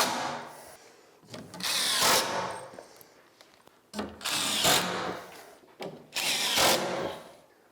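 A power driver sinks flooring screws into plywood in three loud whirring bursts, each building to a strained high whine, with quieter pauses between and no talk.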